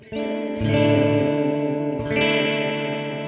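Sustained electric guitar chords shimmer and waver through an EarthQuaker Devices Sea Machine chorus pedal, the swirling modulation growing more pronounced as a second chord is struck.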